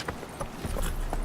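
Roach the horse gallops in the video game Witcher 3, giving steady, rhythmic clip-clopping hoofbeats at moderate loudness with no talk.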